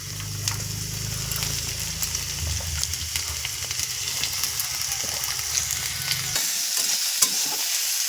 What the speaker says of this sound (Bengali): আলুটাকে ভেজে নিতে হবে।